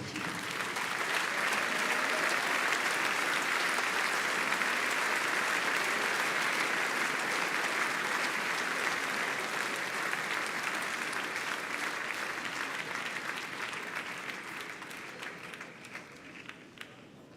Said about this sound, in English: Sie können schon mal applaudieren